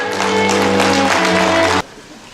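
A crowd at a literary award ceremony claps steadily for nearly two seconds, then the applause stops abruptly, leaving only faint room noise.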